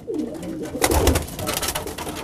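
Pigeons coo softly and steadily in a loft holding young squabs and surplus male homing pigeons, a low murmuring chorus heard up close without talk.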